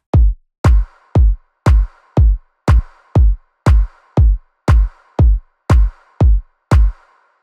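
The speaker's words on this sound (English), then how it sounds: "layered with a soft kind of clap with a little bit of EQing on it." A steady electronic beat alternating a deep kick drum with a soft, EQed clap layered on top, with the clap's high end ducked and a touch of reverb. It runs loud and regular for about seven seconds with no voices.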